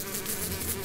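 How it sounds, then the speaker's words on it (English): Flies buzz in a short, faint, continuous droning hum with no talking. "flies,"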